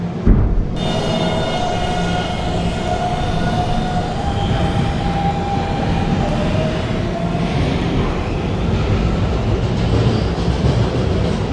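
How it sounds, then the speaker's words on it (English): A Roblox video game subway train, an R152 on a local route, rumbles along steadily, with a rising whine and faint rail clatter filling the whole stretch, loud and close, without voices. "This is a Potatoburg bound 11 local train."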